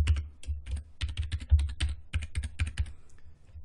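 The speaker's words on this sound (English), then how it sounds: "I'm going to go and type in my password." Rapid, irregular keystrokes on a computer keyboard as a password is typed, close and crisp, with short pauses between bursts of clicks and no talking.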